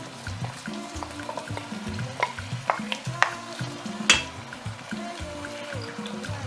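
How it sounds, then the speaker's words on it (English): Washed rice and grated onion are stirred in a pot with a spoon, giving irregular scraping strokes and occasional sharp clinks against the metal over a soft, steady sizzle. "And then I'll stir."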